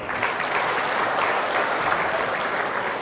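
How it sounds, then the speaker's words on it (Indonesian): Steady, dense applause from a large audience at a national ministry working meeting, continuous crowd clapping without pause across the short span. "tepuk tangan untuk beliau"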